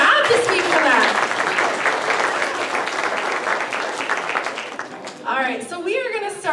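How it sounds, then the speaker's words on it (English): Audience applause fills a church hall at a Vacation Bible School program, a loud sustained wash of many hands that thins out toward the end as voices take over. "So give your guys a round of applause."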